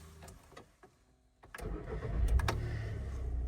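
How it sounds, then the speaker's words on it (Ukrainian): A Volkswagen Touran with a 1.6 MPI petrol engine cranks and fires up after a few quiet clicks, then settles into a steady idle, fairly faint. "Давайте запустимо двигун."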